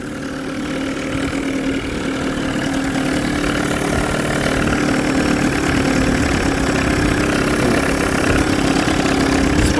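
A 1993 Evinrude 30hp short-shaft two-stroke outboard motor idles steadily close by, a constant buzzing engine drone that holds even and loud throughout with no talking.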